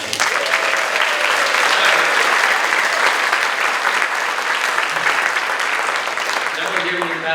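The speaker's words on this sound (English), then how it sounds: "one more round of applause for them" A town hall audience in a school district venue gives a loud, sustained round of applause for departing Girl Scouts, dense clapping with crowd murmur that tapers slightly near the end.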